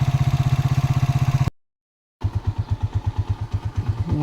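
A motorcycle engine idles with a steady, throbbing putter, cuts out briefly to silence, then chugs again with a rhythmic, slightly rougher beat.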